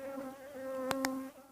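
Honey bees near a wooden beehive box in a village apiary, a faint steady droning buzz with wavering pitch and two brief sharp clicks partway through, heard alone without speech.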